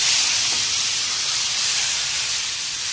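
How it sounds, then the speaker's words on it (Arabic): Lentils boil hard in a pot with a steady, loud, close hiss of bubbling and steam that holds throughout without a break. "بصوا العدس بيغلي ازاي"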